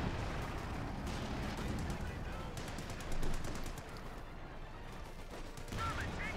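Gunfire in a strategy video game with tanks in battle, a steady rattle of distant shots and bursts running throughout with occasional louder booms, while a commentator talks over it.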